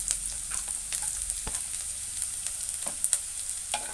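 Ginger and chopped garlic sautéing in hot oil, making a soft continuous sizzle broken by scattered light taps and scrapes of a spatula, all fairly quiet.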